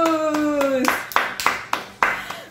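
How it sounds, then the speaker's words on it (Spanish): A small group claps in a children's church service praising Jesus, with a few loose claps following a sung tone, then sharper individual hand claps at an uneven rhythm, close and fairly loud. "Un aplauso a nuestro Señor Jesús."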